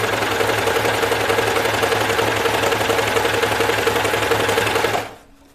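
A serger stitches knit fabric in a steady, loud, fast mechanical whir that runs without pause for about five seconds, then cuts off abruptly.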